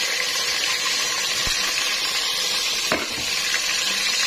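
Onions sizzle steadily in a hot pan while being stirred, a dense close frying hiss with a few faint spoon scrapes against the pan and no talk.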